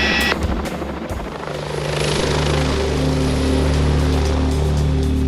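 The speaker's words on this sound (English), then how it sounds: "London's police helicopter carries the call sign India 99" London police helicopter flying in to land: a loud, steady rotor and turbine roar close by, with a constant whine that fills the whole stretch and grows slightly heavier, no voices.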